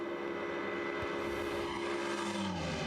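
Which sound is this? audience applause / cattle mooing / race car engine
race car engine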